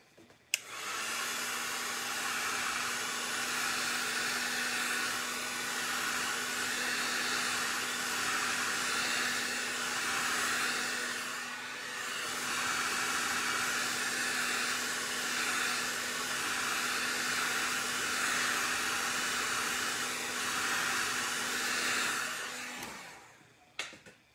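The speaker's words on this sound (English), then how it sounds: "Hit it with my heat gun." A heat gun blows on a mica-coated tumbler as one continuous, steady airy roar with a faint hum, running near and unbroken for over twenty seconds before clicking off, with no talking.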